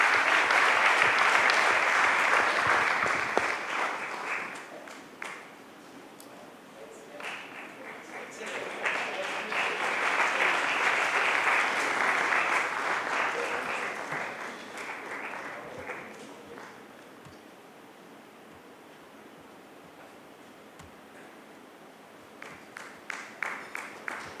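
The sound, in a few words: audience applause after keynote address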